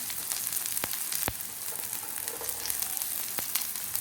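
Small onion, ginger and curry leaves fry in oil with red chilies, a steady soft hiss and crackle throughout with a few sharp pops, fairly quiet and without talk.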